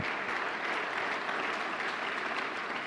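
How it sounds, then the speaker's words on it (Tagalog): Audience applause at a church sermon gathering, a dense steady clapping from a crowd that holds evenly throughout without pauses. "Lakasan niyo yung palakpak niyo."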